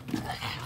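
A French bulldog gives a brief, close dog vocalisation, a soft whimper lasting well under a second, heard indoors against a little background noise.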